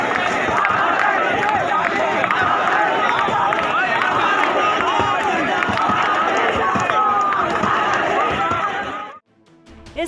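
A protesting crowd in uproar in Patna over the citizenship law, a dense, loud roar of many shouting voices with scattered bangs and clatter, continuous for about nine seconds before cutting off abruptly.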